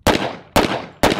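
Three loud, sharp gunshots from an AF2011-A1 double-barrel 1911 pistol, evenly spaced about half a second apart, each with a quick decaying ring at close range during range firing.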